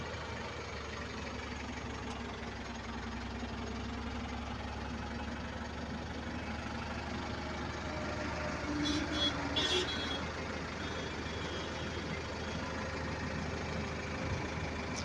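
A vehicle running on CNG and liquefied methane (LNG) idles with a low, steady engine hum throughout, fairly quiet and even, with no speech.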